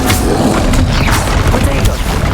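Explosive Bombarda spell blasts in the Hogwarts Legacy game, a dense, loud barrage of booming bursts and crashing impacts packed over a couple of seconds, with spell-casting voices shouted over the din.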